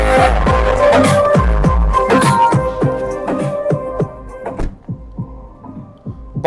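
Music with a thumping, heavy bass beat plays loudly from the audio system of a Mahindra XEV 9S electric SUV at half volume, steady and close before thinning out toward the end.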